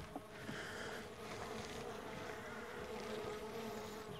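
Honeybees buzz steadily inside an open top bar hive during an inspection, a dense, continuous drone close by that stays fairly even throughout.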